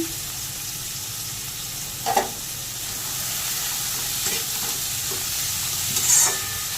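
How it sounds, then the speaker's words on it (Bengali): Cabbage, carrot, beans and chopped green chilli stir-fried in a pan, a steady soft sizzle with a few scraping stirs of a spatula, close and alone without talk. "একটু নেড়ে নেব"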